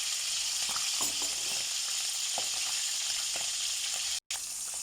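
Dry fish fries in piping hot oil in a pan, giving a loud, continuous close sizzle with scattered pops and crackles and a brief cut near the end, no voices.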